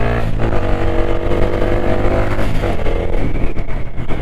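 Motorcycle engine running loud and close while riding, a continuous throaty drone that swells slightly as the throttle is worked, with no talk over it.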